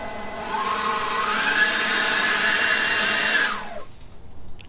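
A Seyvum 650CFM 40V brushless leaf blower runs as a loud, steady whooshing whir for over three seconds, then spins down sharply into quiet handling noise.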